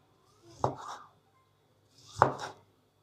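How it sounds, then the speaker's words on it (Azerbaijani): A knife cuts through tomato on a board for an eggplant salad, two separate crisp chops about a second and a half apart, close and clear in a quiet kitchen. "Pomidoru lay-lay doğrayıram."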